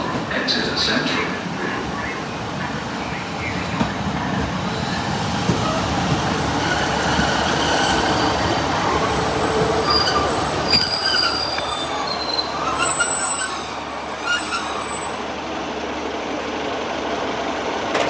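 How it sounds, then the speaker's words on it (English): Great Western Railway train pulling out of Exeter St David's station bound for Okehampton, heard from on board: steady rolling rumble with high metallic wheel squeals rising mid-way, and a voice speaking over it. "just leaving Exeter St David's on a train"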